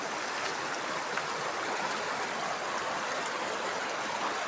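River water flows steadily in a continuous broadband rush, fairly faint and unchanging throughout, with no voices present.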